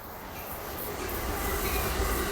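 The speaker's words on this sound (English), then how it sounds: "come on, train, come by." A train rumbles by close and loud, a steady roar of rolling wheels and rail noise that swells slightly as it passes.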